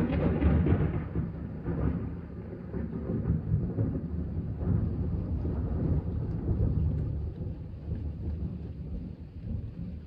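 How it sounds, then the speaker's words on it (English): Heavy rain pours steadily while thunder rumbles low and continuous through the downpour, with a stronger roll at the start; no voices are heard. "it started thunder and lightning"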